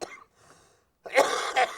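A short throat sound, then a couple of harsh, close coughs in quick succession, loud against an otherwise quiet background.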